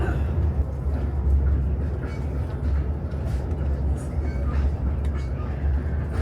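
Train ride in Alaska: a loud, steady low rumble of rail cars rolling along, continuous and close, with faint voices underneath.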